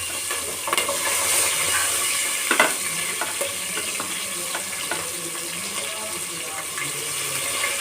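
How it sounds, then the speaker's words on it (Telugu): Green chillies fry with whole spices in a pan, giving a steady close sizzle with stirring scrapes and a few clinks of the spoon. The tone stays even throughout and no one speaks. "మసాలా దినుసులు వేగి పచ్చిమిరపకాయలు వేసుకున్నాం వేయించుకోవడానికి"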